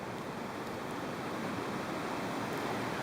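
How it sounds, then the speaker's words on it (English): Steady broadband rush of a frozen waterfall with ice formations, Athabasca Falls in winter, loud and continuous with no pauses, blended with some wind noise across the microphone. "Right here, there's a waterfall."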